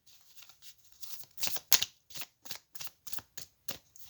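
Tarot cards being shuffled during a card reading, a quick run of crisp papery flicks and riffles with a few louder snaps near the middle, close and fairly quiet with no voice.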